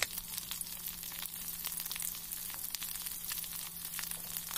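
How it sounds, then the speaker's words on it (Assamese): Fish sizzles and crackles in a hot pan over onions and green chilies, a steady close frying hiss with fine popping throughout and no voices. "মই মাছকেইটা লৰাই দিওঁ।"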